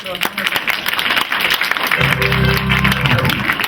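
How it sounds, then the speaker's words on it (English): At a ComedySportz improv comedy show, the audience claps for itself. The clapping is close, loud and busy, mixed with voices and a brief low tonal sound partway through. "Okay, give yourselves a round of applause."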